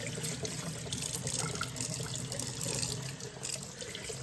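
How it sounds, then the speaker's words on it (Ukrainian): Salted fish, dried trout, rinsed under a running kitchen tap, a steady close splash of water hitting the fish and sink throughout, with no talking. "Ми її гарненько беремо, промиваємо під водичкою."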